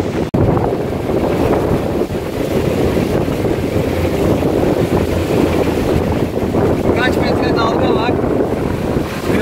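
Strong wind roars across the microphone aboard a sailboat rolling at sea near Ören, with constant buffeting gusts, water wash against the hull and a faint creak or whine rising briefly late on.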